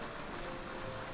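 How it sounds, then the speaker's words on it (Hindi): Heavy rain pouring down on a stormy night, a dense, steady broadband hiss of drops on surfaces, constant and fairly loud, with no voices. "लेकिन ये बारिश तो और तेज हो गई।"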